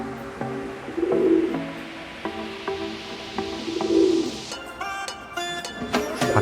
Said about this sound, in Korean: 밖에서는 계속해서 수컷 비둘기의 구애하는 소리가 들린다.